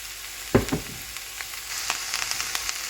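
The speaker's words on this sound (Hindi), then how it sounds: "1-2 मिनट सौटे करने के बाद इसमें अब पालक ऐड कर देंगे।" Onion and spinach sautéed in a pan over a medium-low flame for a spinach omelet: a couple of sharp clinks of utensil on pan early on, then a faint, steady sizzle with small crackles throughout.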